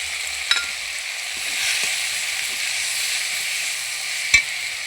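Spice paste cooking down with a little water in a pan with salt and turmeric, for a vegetarian young jackfruit dish: a steady soft sizzle with occasional scraping stirs and two sharp clinks of a spoon against the pan.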